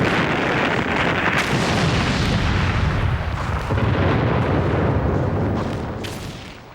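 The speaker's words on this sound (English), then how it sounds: "the ground shook under the constant impact of light and heavy shells" Continuous World War I artillery bombardment of light and heavy shells, a dense, rumbling roar of overlapping distant blasts with sharper cracks, steady throughout before easing slightly at the end.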